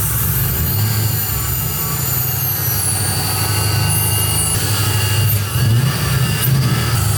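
A Mazda RX-7 FC rotary engine, long abandoned and now running rich with one injector left out, idles steadily up close. A continuous low engine drone carries a faint sucking air intake whoosh throughout, with no voices.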